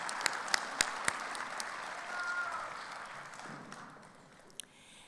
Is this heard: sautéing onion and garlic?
no